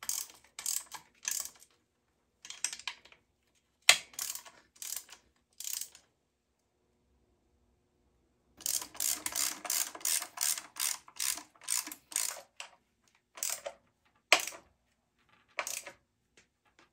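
Ratchet wrench tightening the engine mounting bolts on a 1974 Yamaha DT360A motorcycle: bursts of rapid, close metallic clicks in several separate runs, with pauses between them and a longer, denser stretch of ratcheting later on.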